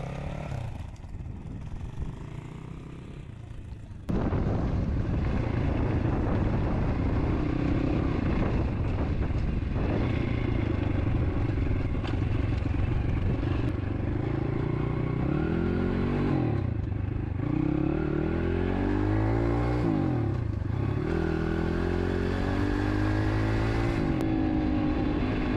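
A motocross motorcycle on a training track revs and accelerates, loud and close, with the engine note repeatedly rising and falling as the clutch is released and the throttle reopened.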